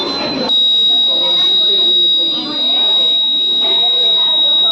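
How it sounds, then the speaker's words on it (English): A steady, piercing high-pitched electronic tone sounds from an Arduino gas leak detector buzzer with an MQ135 sensor, holding almost unbroken for several seconds while people talk and move nearby. "if any gas leakage in our house, like LPG gas, it detects and it gives us sound"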